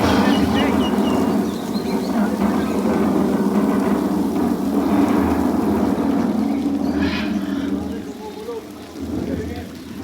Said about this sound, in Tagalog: Umuulan. Guys, may paulan.